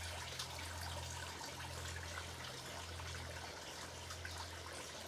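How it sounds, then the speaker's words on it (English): Water trickling faintly through a boggy section beside a coastal walking path's boardwalk, a soft continuous burble low in the background with no talking. "Boardwalks on a rare boggy section, as you can hear from the trickling water."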